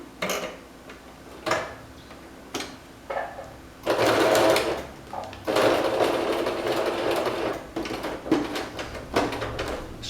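Sewing machine stitching a child's dress, with short bursts of rapid stitching between pauses, then longer steady runs, close up with light handling clicks between.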